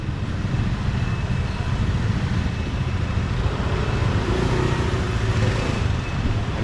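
Motorbike traffic fills a street in Bali, a loud, constant wash of scooter engines and passing vehicles with a steady rumble and no pauses.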